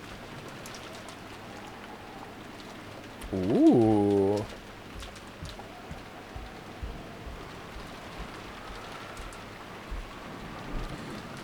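Steady rain pattering over a rose garden in the visual novel Umineko, a soft constant hiss throughout, with a brief voiced exclamation early on and scattered small drips.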